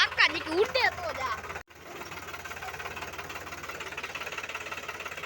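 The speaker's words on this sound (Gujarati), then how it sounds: "અત્યારે ટ્રેક્ટર લઈને નીકળી ગયા" A tractor engine chugs with a steady, rhythmic diesel knock after a brief burst of voices at the start, holding a constant pulsing drone to the end.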